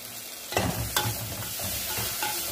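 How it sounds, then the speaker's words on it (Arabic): Onions fry in olive oil in a pan on a gas stove, the steady sizzle broken by a few scraping stirs and knocks at close range, with no talking. "نحط زيت زيتون حسب، بنحط البصل، نحرك شوي"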